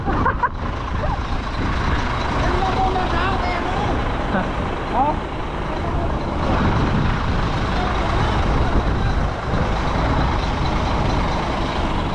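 A lowbed truck reverses, its heavy engine rumbling loud and close throughout with faint reversing beeps barely showing in the din, while people talk nearby.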